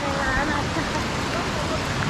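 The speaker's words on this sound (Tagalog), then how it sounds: "basa na kami sa ulan" Steady rain falls with a dense, even hiss on surfaces close by during a rainy-season evacuation, as people speak faintly in the background.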